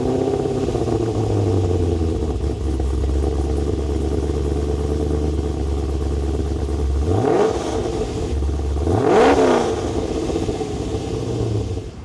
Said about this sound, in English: But now, what I'm really looking forward to is my first cold start with the HSV Maloo.